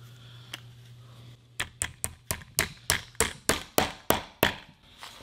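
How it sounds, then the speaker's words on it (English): Chair glides being hammered into the legs of a chair: about a dozen sharp, evenly spaced hammer strikes ring out close and loud, following a short stretch of quiet low hum with one faint tap. "once you hammer them in. All of a sudden the sound will go from hollow to solid."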